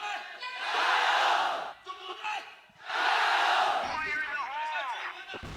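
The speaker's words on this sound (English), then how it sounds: "The crowd are getting behind Vici here." An esports grand final crowd roars and cheers in two big surging waves, whooping and shouting in a large arena, loud and close, with voices clearly audible in the mix.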